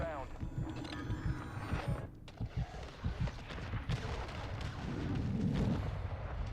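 Explosions in Modern Warfare 2 boom and thud in a quick run of heavy bursts, then a rolling rumble, with in-game voice chatter underneath.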